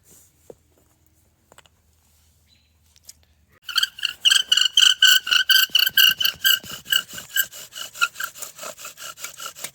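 A wooden bow drill spindle grinds against a wooden board in a rapid back-and-forth rhythm, the loud rasping strokes starting after a few seconds of near silence and continuing steadily to the end.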